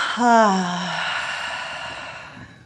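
A single audible breath during a morning yoga flow, drawn in and then released as a long, soft exhale that fades gradually, close and alone.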